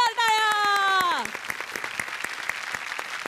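An audience on a Marathi TV comedy show applauds the comedians; a voice holds a drawn-out note that slides downward, then scattered, crisp claps continue at moderate volume.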